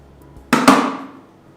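A locking clip on an AquaEL Ultramax 1500 canister filter snaps shut with one sharp, loud plastic click, a second snap following closely, then the sound decays quickly into quiet.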